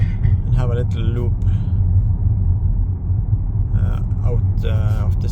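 A Volvo V90 T6 AWD plug-in hybrid running on electric power drives into a city, with steady low road and tyre rumble continuing under a man's intermittent speech.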